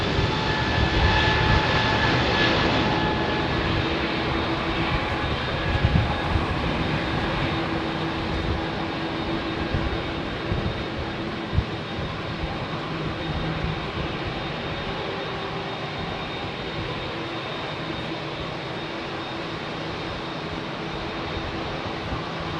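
A Boeing 787 Dreamliner takes off at London Heathrow Airport, a steady broad jet roar heard from a distance that holds throughout without voices.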